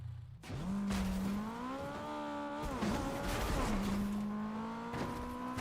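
Takumi car driving in the Fortnite video game, a loud close engine drone rising and shifting in pitch with revving, tire noise and scraping bursts, continuous throughout.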